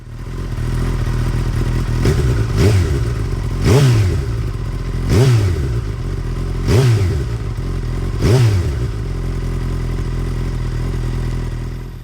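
Suzuki Katana 1000 motorcycle fitted with an M4 exhaust, idling loudly in an echoing basement with a steady low rumble, blipped about five times in regular revs.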